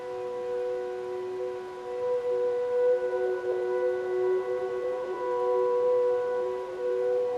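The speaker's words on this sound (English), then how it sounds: "It's called the radio preset from the piano pads library." A warm, sustained radio preset pad from the Labs piano pads library, suited to sleepy lo-fi and ambient music, holding steady layered tones with a slight wavering texture, alone and moderately quiet.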